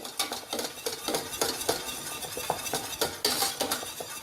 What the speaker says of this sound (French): Je tourne encore quelques secondes.